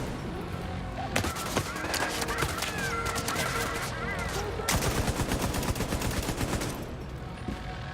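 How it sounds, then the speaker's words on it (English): Light machine gun fire in the video game The Division 2, long sustained bursts of rapid shots with a short pause midway, loud and close over game ambience. "LMGs are really the king here."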